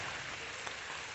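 Steady rain falling outside a house in a village, an even, soft hiss of drops that continues throughout the short moment.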